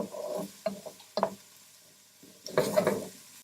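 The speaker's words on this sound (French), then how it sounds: "On mélange bien." Chopped peeled tomatoes stirred in a frying pan, soft wet scraping and clicking strokes of a utensil in short bursts over a faint sizzle, close and quiet.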